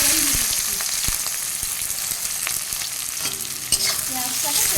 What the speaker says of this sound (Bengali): তেল গরম হয়ে গেছে, এবার পেঁয়াজটা ফোড়ন দিয়ে দিচ্ছি।